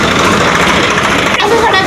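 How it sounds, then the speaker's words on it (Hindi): A tractor engine runs loud and close in a residential street, a steady rough drone with no pause. "एक ट्रैक्टर और आ गया हमारी गली में"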